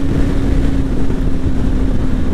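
A BMW G310GS motorcycle's steady engine drone with a low hum, heard over rushing wind noise at around 130 km/h, sustained at a constant loud level.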